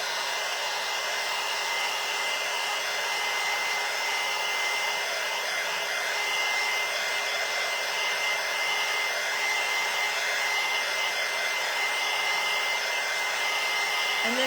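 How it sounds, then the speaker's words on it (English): A heat gun blows steadily and loudly for the whole stretch, drying watercolor ink on paper, a constant broadband roar with a faint whine and no pauses. "you just take your heat gun and dry it"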